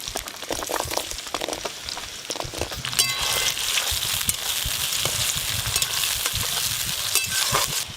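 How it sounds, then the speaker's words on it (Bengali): Shallots (mori onions) fry in hot oil in a pan while being stirred for a chicken kosha, a loud, continuous close-up sizzle with scraping stirs and crackles throughout. "এই যে মরি পেঁয়াজগুলো নিয়েছি সবগুলোই দিয়ে দেবো।"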